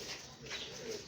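Pigeons in a home loft coo softly and continuously, a low murmuring close by, with faint chirps mixed in.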